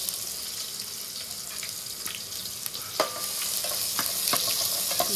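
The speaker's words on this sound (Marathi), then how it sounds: "टोमॅटो टाकल्या लसूण टाकल्या ना तडतडीत मस्त फोडणी देता तडतडीत" Tomatoes and garlic crackle and sizzle in hot oil for a tempering, a steady frying hiss with a few sharp pops and utensil clinks scattered through, no voices.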